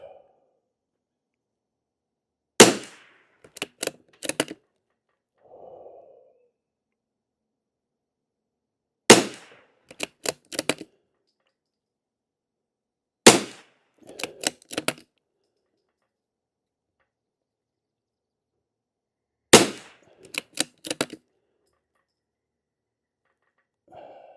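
A rifle fires CCI SV ammunition for a test group: four sharp, well-spaced shots, each followed by a quick cluster of clicks, over near silence.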